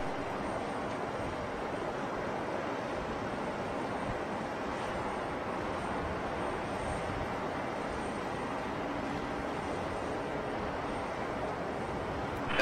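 A steady, broad roar of a Boeing 777X jet engine on takeoff at a distance, on its first flight from Everett, constant and rumbling throughout with no voices.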